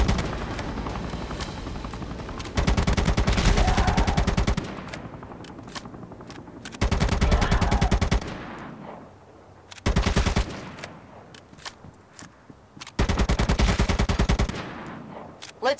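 Gunfire in the mobile zombie shooter game ZOZ: Final Hour: several loud bursts of rapid automatic fire separated by pauses, with a lower background drone between bursts.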